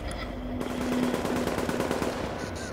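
Rapid automatic gunfire rattles in steady bursts amid snowy, foggy weather in the Dark Zone of the video game The Division, moderately close and continuous without any talking.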